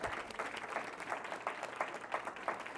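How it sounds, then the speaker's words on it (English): A crowd claps for a group of finalists at an awards program, many hands forming a steady rolling applause at a modest level, slightly distant and unaccompanied by speech. "please give our dynamic group of finalists a round of applause."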